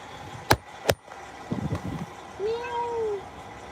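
After a couple of sharp clicks and some rustling, a single drawn-out cat meow rises and falls nearby.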